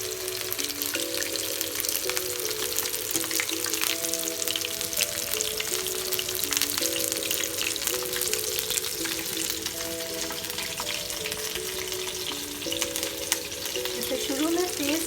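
Pasta-coated chicken pieces fry in hot oil, a steady, dense crackling sizzle that runs throughout while someone talks over it.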